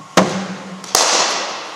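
Two sharp cracks of a cricket bat striking the ball at cricket academy practice, about three quarters of a second apart, close and loud with a short ring after each hit and no talking.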